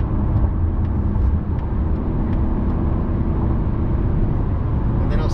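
A 2023 Mazda CX-50 cruises on the road, heard from inside as a steady low road and engine rumble with tire hum and no pauses.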